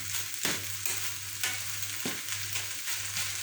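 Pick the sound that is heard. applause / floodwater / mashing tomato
mashing tomato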